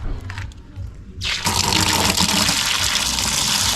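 A kitchen tap suddenly opens at high pressure, jumping from a quiet trickle to a loud, sustained gushing roar of water that continues steadily.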